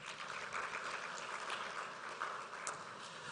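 Applause at a central bank policy statement event in Rwanda, a steady, even wash of clapping held at moderate level throughout, with no voices standing out.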